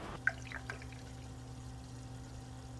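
Coolant poured into the inverter cooling system of a 2004-2009 Toyota Prius, a quiet trickle with a few early splashes over a steady hum of the electric coolant pump running.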